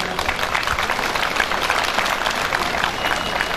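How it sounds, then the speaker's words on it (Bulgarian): An audience at a national holiday commemoration in Petrich, Bulgaria applauds the town's mayor, a short burst of steady crowd clapping filling the whole moment. "Аплодисменти за него"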